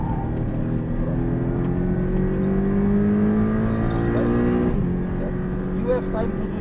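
Porsche 718 engine pulling hard at full throttle on the Portimão circuit, a steady rising drone that climbs through the rev range with a brief dip near the end, heard from inside the car under an instructor's continuous talk.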